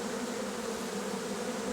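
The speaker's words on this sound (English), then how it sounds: "I really wish this was in hi-fi stereo for you guys to hear this buzzing." Dense, steady buzzing of a packed mass of honeybees forming a bee beard, a continuous close drone with no pauses.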